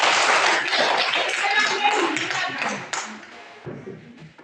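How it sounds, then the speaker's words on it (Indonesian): Classmates in a primary school classroom clap for a pupil named Sinta, a dense burst of hand claps that fills the room, then thins and fades toward the end. "Berikan tepuk tangan untuk Sinta."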